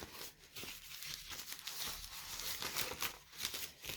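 A plastic seedling sleeve being unrolled and wound, giving a steady, faint, close crinkling and rustling that continues throughout without talk.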